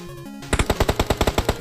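Automatic gunfire in PUBG Mobile, a rapid burst of about ten loud, evenly spaced shots in quick rhythm, preceded by a short stretch of quieter game sounds.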